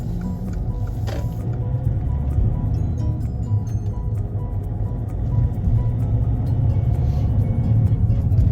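Car moving off on a driving test route in Ayr, a low, steady engine and road rumble from inside the cabin building gently as it pulls away, with no talk.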